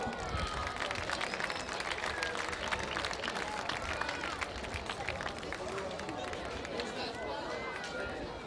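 Audience applause at the Palio dei Normanni, a historical pageant in August 2017, dense and steady clapping mixed with crowd murmur and scattered voices throughout.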